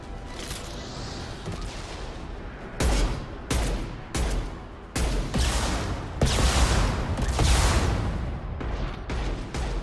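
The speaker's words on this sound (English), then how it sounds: "Firing an impact shot." Weapon fire in Mass Effect 2 on Insanity difficulty, several loud sharp blasts in irregular bursts that cut through a rumbling battle background, some shots sounding heavier than others.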